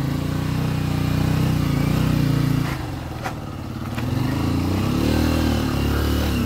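A motorcycle engine drones steadily up close, dipping briefly as the rider eases off, then picking up again.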